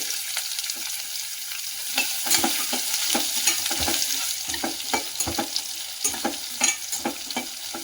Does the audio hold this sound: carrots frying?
yes